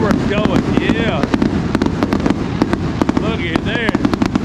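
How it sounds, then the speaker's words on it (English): Fourth of July fireworks crackle and pop in rapid clusters outdoors near a seafood restaurant, with sharp repeated bangs over a busy background while a voice talks. "They got the fireworks going."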